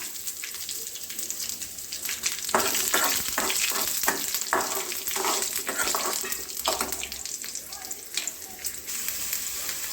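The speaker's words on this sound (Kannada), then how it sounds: "ಇವಾಗ ಒಣಮೆಣಸಿನ್ಕಾಯಿ ಒಗ್ಗರಣೆ ಹಾಕ್ಕೊಂಡು ಸ್ವಲ್ಪ ಕರಿಬೇವು ಸೊಪ್ಪು ಒಗ್ಗರಣೆ ಹಾಕೊಳ್ಳೋಣ" Dry red chillies and curry leaves sizzling in tempering oil for a curry, a steady close frying hiss broken by repeated bursts of crackling and popping, with faint talk in the background.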